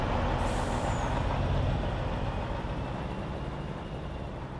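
Vehicle engine and rumble from a farming simulator game set in Hanna, Indiana, a loud broadband roar close by that fades slightly as it passes, with a brief hiss at the start.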